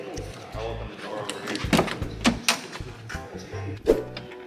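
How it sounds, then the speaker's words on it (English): Car door of an LS3-swapped BMW E36 being opened, a few short clicks and clunks of the latch and hinge close by, mixed in with people talking. "I'll open the door"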